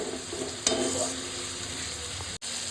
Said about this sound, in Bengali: জল দেবো আর মশলাটা কষাবো।